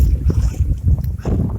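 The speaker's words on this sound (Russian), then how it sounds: "Погода, ветер, блин." Strong wind gusting across a lake during a fishing trip, buffeting the microphone with close, loud, uneven low rumbling thumps.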